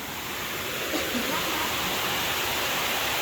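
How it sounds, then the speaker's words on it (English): Heavy rain pours down in a continuous, even hiss of falling water, loud and steady throughout with no clear breaks. "It's a heavy rain."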